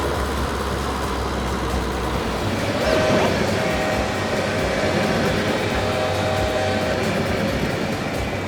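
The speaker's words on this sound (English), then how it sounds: "Train, a long vehicle that runs on tracks and carries people or goods." A train runs along its tracks with a loud, continuous rumble and rolling roar, steady throughout and close by, with no voices.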